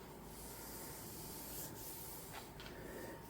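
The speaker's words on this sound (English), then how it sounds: "sand this so it's nice and smooth" Sanding an MGA hardtop body panel gives a steady, continuous abrasive rasp, close and even throughout, with no talking.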